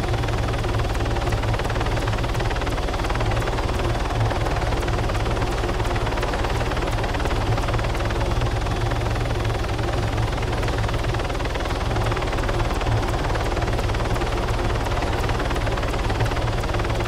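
Helicopter in the ARMA 3 military game flying continuously, a loud steady rotor thrum and engine drone filling the whole stretch without pause.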